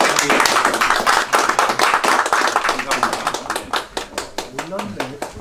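At a Korean Presbyterian presbytery business meeting, members clap to welcome newly introduced members. The clapping starts as a brisk group burst, then thins into a few separate claps as voices talk over it.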